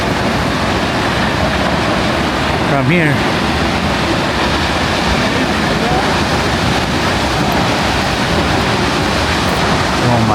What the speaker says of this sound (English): I don't know if you guys can see the power of the waterfall.